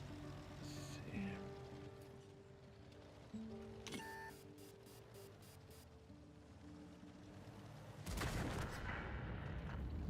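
Video game artillery fire during a tank battle, with booming blasts and a loud rumbling burst near the end over steady game engine noise.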